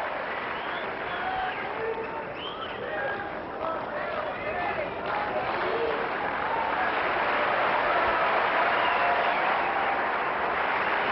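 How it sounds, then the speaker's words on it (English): Tennis crowd at the 2002 Cincinnati first-round match between Sampras and Canas applauding, a broad sustained wash of clapping and cheering that holds steady and swells slightly louder toward the end. "listen to this crowd."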